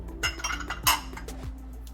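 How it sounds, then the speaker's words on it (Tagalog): Chinese chorizo and pork liver go into a pot, giving a few clinks and clatters of metal and utensils against the cookware, close and fairly quiet, spaced over two seconds. "I'm going to add now the Chinese chorizo and also the pork liver"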